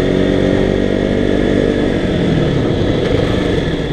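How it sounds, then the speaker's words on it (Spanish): A KTM RC 200 motorcycle engine drones loud and close while the rider brakes hard, the pitch sinking as the revs fall. "Ahorita vamos a hacer una frenada un poco brusca aquí adelante"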